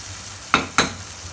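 Ginger paste is stirred into an eggplant curry, two quick scraping strokes of a spoon in the pan over a low, steady sizzle.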